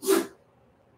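A single short sneeze bursts out at the start, loud and close, then fades into quiet room tone.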